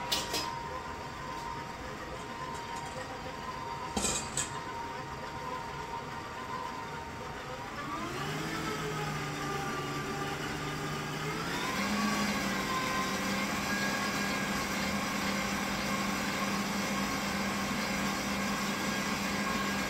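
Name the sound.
electric mixer mixing cake batter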